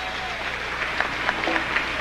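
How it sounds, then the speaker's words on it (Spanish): Applause from a concert audience at a salsa show in Caracas, a steady dense wash of clapping with a few sharper claps poking through, sustained throughout. "Un fuerte aplauso para todos ellos."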